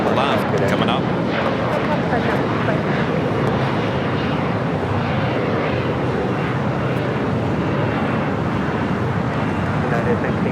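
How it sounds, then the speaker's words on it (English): A China Airlines Boeing 777 freighter arrives on its landing approach at LAX, a loud, continuous, broadband jet roar that holds steady throughout, with a speaking voice underneath. "China Airlines cargo, the 777 freighter will be arriving here on the south side at 25 left, coming up."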